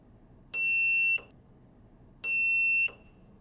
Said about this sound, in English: Then the buzzer will turn on.